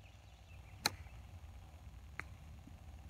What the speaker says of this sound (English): I don't know if you guys could hear that contact, but it was perfectly solid.